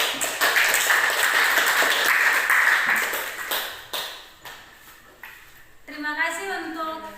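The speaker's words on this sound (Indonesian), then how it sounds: "berikan aplaus untuk kelompok 3" Applause breaks out in a classroom for a student presentation group, a broad wash of clapping for about five seconds that thins out, followed by a tonal chime near the end.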